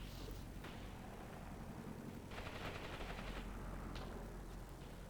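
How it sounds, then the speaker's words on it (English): An FW 190 strafes ground positions with gunfire in the combat game Graviteam Karbusel, heard as a rapid, rattling burst of shots with a few isolated cracks, faint and distant over a steady rumbling background. "In the woods, getting strafed."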